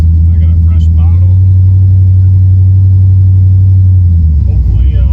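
A nitrous-fed 305 small block Chevy drag car idles loudly close by with a deep, steady rumble that barely changes before easing slightly at the end.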